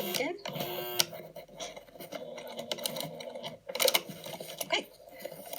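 Sewing machine backstitching while stitching a patchwork basket handle, quick bursts of whirring stitches that stop, reverse and start again, close up, with a voice talking over it.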